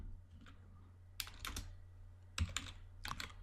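Code being entered on a computer keyboard: scattered bursts of crisp key clicks with short pauses between them, close and fairly quiet, with no talking.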